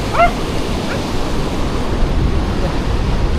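Steady roar of sea surf breaking close to a seaside tree house, with a broad wash of noise throughout and a brief dog bark near the start.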